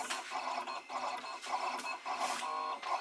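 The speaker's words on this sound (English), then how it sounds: "it is a, you know, vinyl cutter. You can hear it, but it's not bad at all." A Siser Romeo vinyl cutter slices a rhinestone template, its carriage buzzing in quick repeated strokes with short pauses between passes, close and steady.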